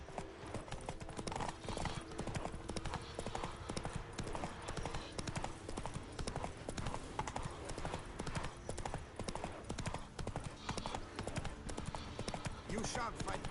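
Horse hooves clip-clopping in The Witcher 3, a brisk continuous rhythm of hoofbeats throughout with a faint game voice and ambience underneath.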